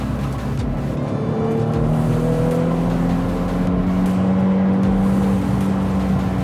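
A Nissan Fairlady Z Version Nismo Type 380RS, an endurance race car turned road car, revs hard while accelerating, its engine note climbing in a long sustained pull heard from inside the car.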